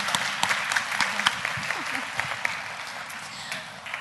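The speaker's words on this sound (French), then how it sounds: "On les applaudit très fort." Sustained applause from an audience in a lecture amphitheatre at a Lyon dyslexia awareness day, thick steady clapping from many people, slightly softer, with a few faint voices underneath.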